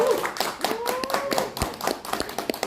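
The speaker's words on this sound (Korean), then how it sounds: "큰 박수 한번 부탁드리겠습니다" A few people clap at a poetry recital concert; sparse, uneven claps sound close, with a faint high whistle or voice tone drifting over them.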